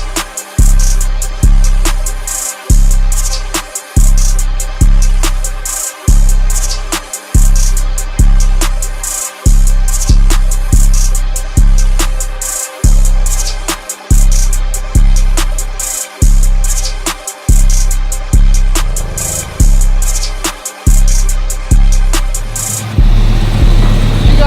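Intimidator SS clone truck fitted with a Corsa exhaust, its engine droning in a steady, rhythmic pulsing pattern throughout, loud and close, with a brief rise near the end and no talking.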